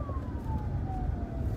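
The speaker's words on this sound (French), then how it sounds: "C'est ambulance derrière moi." Ambulance siren in Côte d'Ivoire, a single faint falling tone heard from behind a moving vehicle, buried under steady road and engine rumble.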